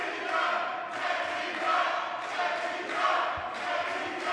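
A wrestling crowd at an Ignition show cheers and shouts in steady waves, loud and sustained, with swelling roars throughout and no commentary over it.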